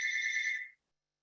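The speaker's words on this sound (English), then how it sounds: "there's a telephone somewhere ringing and I don't want it to interfere with today's shiur" A telephone rings in a room during a lecture, one brief electronic trill that cuts off abruptly into silence.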